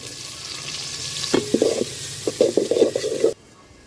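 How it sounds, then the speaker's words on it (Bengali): Chopped onions drop into hot oil with fried garlic, left over from frying fish, and burst into a loud sizzle. Crackling and stirring follow for a couple of seconds before it cuts off abruptly. "রসুন ভাজা হয়ে গেছে এখন পেঁয়াজ দিলাম"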